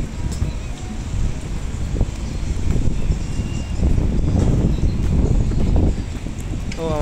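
Strong wind buffets the microphone beside the sea at Lisbon, Portugal, a steady broadband rumble with gusts that swell through the middle and ease toward the end, with boat and water activity nearby.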